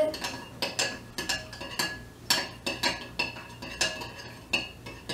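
A spoon stirs slime mixture in a bowl, making a steady run of small clinks and scrapes in a quick, regular rhythm, close and moderately loud.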